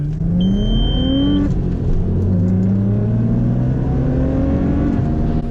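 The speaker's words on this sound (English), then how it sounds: "we're gonna do a quick like 5 mile an hour to 60 mile an hour pull" Tuned Audi B5 S4 with advanced ignition timing accelerating hard from about 5 to 60 mph, a loud, continuous engine roar climbing in pitch through the gears with a brief dip at a shift, heard from inside the car.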